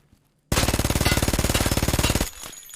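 A .45 Vector in Escape from Tarkov fires a single loud, close full-auto burst of rapid, evenly spaced shots lasting almost two seconds, then cuts off abruptly.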